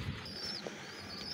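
Soft pigeon coos from young white golden pigeon chicks, with faint chirps and a light rustle, close by and fairly quiet in a short stretch without talk.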